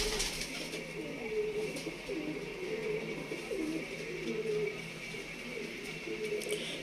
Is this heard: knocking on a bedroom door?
no